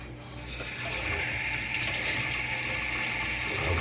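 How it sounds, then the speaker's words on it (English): Water runs steadily from a kitchen tap while hands are washed, a continuous hissing splash at moderate volume with no pauses. "I'm gonna just wash my hands."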